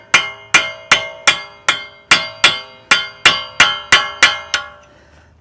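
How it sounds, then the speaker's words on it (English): Sharp metallic hammer strikes on a punch against a CV axle of a 2014 Dodge Journey ring out about a dozen times in a steady rhythm, each blow clanging and decaying quickly. "you just hammer it back with this punch"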